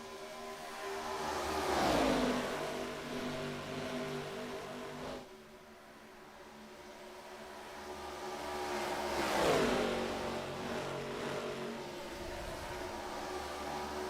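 ARCA stock car racing at Kansas, race car engines sweeping past at a distance, two separate passes that rise and fall in pitch about seven seconds apart, over a constant background engine drone.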